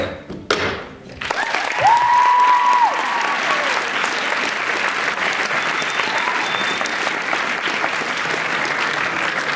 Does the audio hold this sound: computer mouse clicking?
no